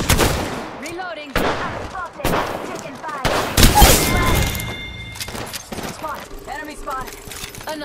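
Gunfire in the Apex Legends video game comes as loud repeated bursts of shots and impacts. Voice-like game callouts overlap them in a dense, busy mix.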